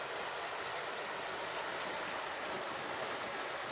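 Mixteco river in the Mixteca region of Oaxaca, heard as a steady, loud rushing of flowing water that continues unbroken throughout with no voices.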